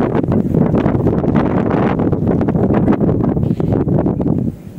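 Strong wind buffets the microphone in loud, gusty rushes at an outdoor fishing spot, roaring almost continuously, easing slightly at the very end.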